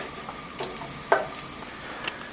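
Garlic frying in a pan as the cloves are turned, a soft steady sizzle punctuated by a few light clicks and scrapes of the utensil, close and quiet with no voices.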